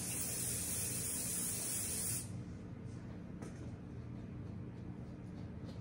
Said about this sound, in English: You want to get a little bit of your spray on the back of the head piece